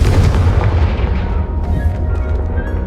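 The Confringo fire spell from Hogwarts Legacy bursts in a loud, close booming explosion that rolls and fades over a couple of seconds, with no voices.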